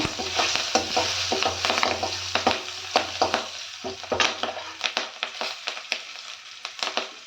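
Green chillies and curry leaves fry in hot oil with turmeric for a Kannada golisoppu palya, giving a close, steady sizzle broken by frequent sharp stirring scrapes and clinks throughout, with no talking.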